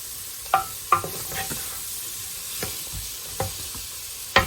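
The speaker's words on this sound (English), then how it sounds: "This take about 5 to 8 minutes for the onions and the carrots to get softened." Onions and carrots soften in a pot over a low, constant sizzle, broken by several sharp spoon clinks against the pot's side at irregular intervals; no one speaks.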